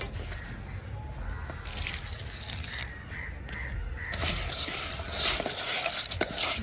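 Flattened rice (aval) is washed gently in water for halwa in a village kitchen, giving soft sloshing and stirring, with crows cawing in the background and a brighter splashing swell near the end.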